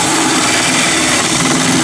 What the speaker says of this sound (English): Ready to drill the holes for the solar furnace